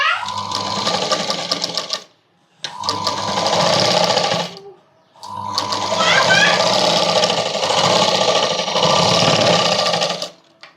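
A sewing machine stitches lining onto the neckline of a kids' night dress in close, loud bursts, with three runs separated by short pauses, the last one the longest.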